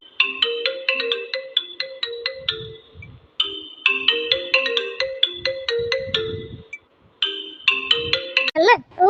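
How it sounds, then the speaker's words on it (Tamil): A phone ringtone plays in repeated melodic bursts of bright electronic tones with short gaps between cycles, close and clear, while a voice talks quietly underneath. "போன் அடிக்குதுன்னு நினைக்கிறேமா"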